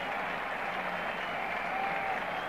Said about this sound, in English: So applause for Alan Knott